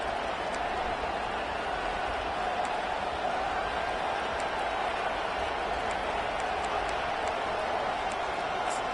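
A college football stadium crowd roars in a steady, dense wash of cheering that stays loud and unbroken throughout, with a few faint whistles rising above it.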